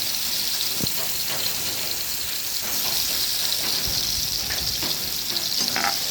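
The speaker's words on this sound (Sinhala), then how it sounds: "සුදු ලුණු ටික ටිකක් දැදෙන්න දෙමු තෙල් එකේ" Crushed garlic fries in hot oil with a steady, bright sizzle, punctuated by a few soft stirring knocks and clicks against the pan.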